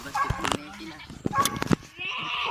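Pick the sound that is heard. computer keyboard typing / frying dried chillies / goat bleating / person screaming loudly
goat bleating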